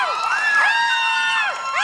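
A crowd at a birthday party whoops and cheers in high, overlapping shouts that rise and fall together, loud and close, with no clear applause claps standing out.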